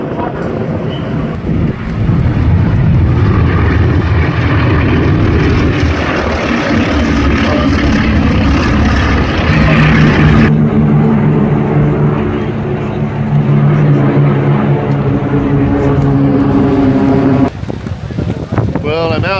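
A B-17 and a mass formation of aircraft pass overhead at Oshkosh, a loud sustained propeller drone swelling and holding as the planes fly over, with gusty wind and an announcer's voice underneath.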